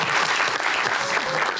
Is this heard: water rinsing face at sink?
no